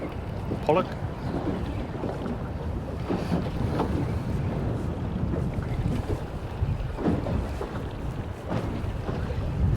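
Strong wind buffeting a small fishing boat at sea in choppy, tight waves, a steady rough roar with gusty bursts throughout.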